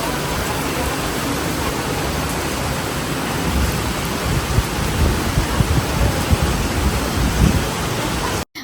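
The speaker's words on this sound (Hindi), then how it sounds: "और फिर अचानक से इतनी तेज़ तूफ़ानों वाली बारिश शुरू हो गई" Heavy stormy rain pours down in a loud, continuous hiss, with deep thunder rumbling beneath it, before the sound cuts off abruptly.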